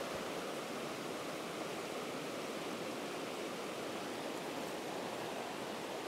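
High Shoal Falls in South Mountains State Park, North Carolina, pours into a clear stream, a constant, even rush of falling water with no voices.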